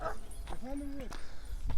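A Kangal-type guard dog gives a short bark and a whining yelp amid other dogs nearby, with a person talking at the same time.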